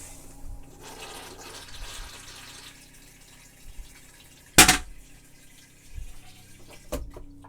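An RV toilet flushes with a rushing gurgle of water, marked by a sharp clunk midway and another knock near the end, close by.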